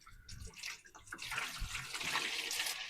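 Water pours steadily into a 10-litre watering can, a continuous broadband splash and gurgle that builds in fullness as the can fills, with no talking.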